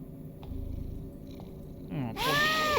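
Cat purring in the game Mystery Phantoms, a soft steady low rumble under ambient game sounds, followed by a brighter burst of chiming game effects near the end.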